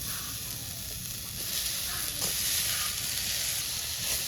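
Semai vermicelli fries in a pan with cardamom and bay leaf, giving a steady, soft sizzle and crackle that holds evenly throughout, heard close up with no voices.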